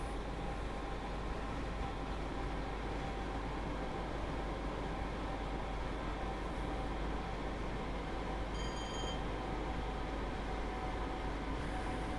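Class 313 electric train shunting around a depot in Train Sim World 2, a steady continuous rumble of motor and rolling noise with a faint high tone near the end, constant and even throughout.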